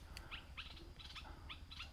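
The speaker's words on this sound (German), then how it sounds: "Ah, das sind irgendwelche Vögel." Birds call among trees in a repeated series of short, high chirps, faint and somewhat distant against a low background rumble, with no speech.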